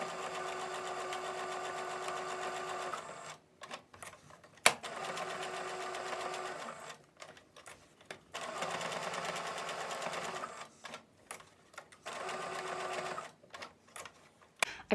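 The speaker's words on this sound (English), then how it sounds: "I've sewn around the edges using the yellow thread." A sewing machine runs a straight stitch through small quilt fabric pieces in several bursts of rapid, even whirring, stopping and restarting with short quiet pauses between runs, no voices.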